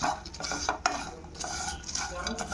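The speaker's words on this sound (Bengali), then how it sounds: "আর এই যে মশলাগুলো একটু হালকা করে নেড়ে নেবো, জাস্ট খালি গরম করে নেওয়া আর কি।" Spices being gently stirred in a little oil in a pan for chicken biryani, with a utensil scraping and clinking against the pan over a faint sizzle.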